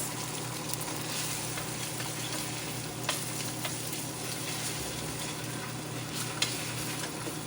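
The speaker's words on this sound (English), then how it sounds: "I'm just gonna scramble these eggs" Eggs sizzle and scramble in oil in a Ninja Sizzle pan, giving a steady close crackle with a few sharp ticks of the utensil against the surface and no talking.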